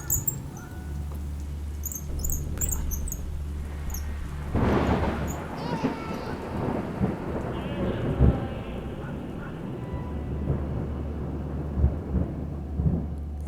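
A thunderstorm with rain and wind rumbles steadily, with rain hissing throughout and low thunder rolls swelling and fading over a quiet background, with faint bird calls early on.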